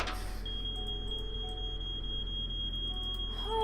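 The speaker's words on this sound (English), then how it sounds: "I thought it was our smoke detector at first. It's a people detector." A people-detector alarm in the Nancy Drew game Treasure in a Royal Tower sounds as a steady, piercing electronic tone held for several seconds over a low background hum.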